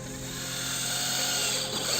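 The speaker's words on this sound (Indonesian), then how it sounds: "Sekarang saya akan coba menggunakan mata bor pagoda atau step drill." Cheap Mailtank SH 216 cordless drill running a step drill bit, a loud, steady high motor whine with a faint low hum beneath that swells slightly before a brief dip, with no voices.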